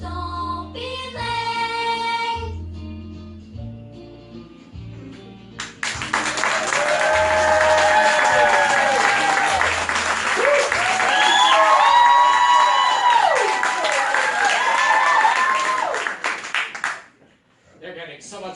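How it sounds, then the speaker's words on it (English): A theatre audience at a Christmas holiday stage show breaks into loud, sustained applause and cheering with whoops after a song ends, following a short stretch of music. "They're getting so much more applause than we are, guys."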